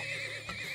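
A horse in a video game lets out a short, loud whinny with a wavering high pitch, close and alone, followed by a faint thud.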